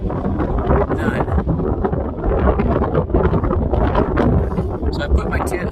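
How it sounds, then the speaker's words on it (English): Strong outdoor wind buffets the microphone on a mountain trail campsite, a constant loud rumble that gusts and swells while a person talks underneath. "sorry, I know it's really windy."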